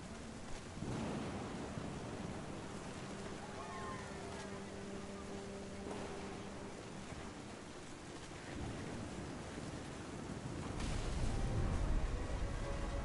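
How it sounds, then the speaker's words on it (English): Thunderstorm with steady rain, a dense wash of noise that holds throughout and swells louder near the end as thunder rumbles low in the background, with no voices present. "Thunder sounded much too close and full of angry power."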